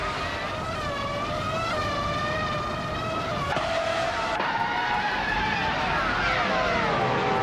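A classic 1998 Benetton B198 Formula One car races in a video game, its high-pitched engine wailing and shifting through the gears, with other cars screaming close alongside in a steady, loud pack.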